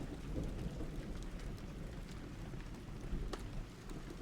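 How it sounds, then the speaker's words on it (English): Steady rain falls continuously in a soft, even hiss, while faint rolls of distant thunder rumble low underneath, with no voices. "the steady rain, the occasional roll of distant thunder"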